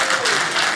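A comedy club crowd breaks into brief, lively applause, many hands clapping at once in a short, even burst that fills the room.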